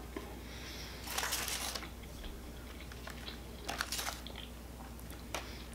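Someone eats a Taco Bell taco up close, with a few short crisp crunches and bites spaced a couple of seconds apart over quiet chewing and a low background hum.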